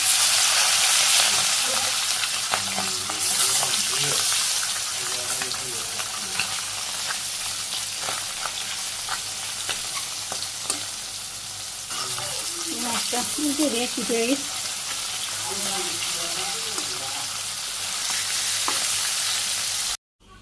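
Small fish frying in hot oil for a village-style curry, giving a loud, dense, continuous sizzle and crackle that carries through the whole stretch, with brief, faint speech partway.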